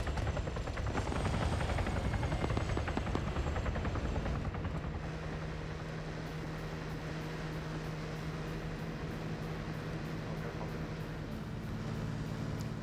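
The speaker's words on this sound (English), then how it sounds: "Have the helicopter pull away." A helicopter in a battle royale game thrums with a fast, continuous rotor chop, loud at first and then settling into a steadier, slightly quieter drone as it pulls away.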